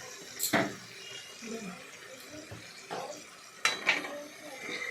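Spoon scraping and clinking in a pan while Shankar fish curry is stirred, a few sharp metallic knocks separated by softer scraping and quiet bubbling.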